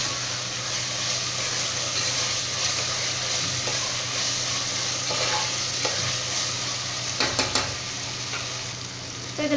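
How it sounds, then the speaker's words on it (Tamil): Mint and coriander leaves sautéed in a pan with a steady close sizzle, broken by occasional utensil scrapes and clinks that grow busier toward the end, with no voices. "இப்போ இது எல்லாமே சேர்த்து நல்லா வந்து நம்ம வதக்கிக்கலாம்"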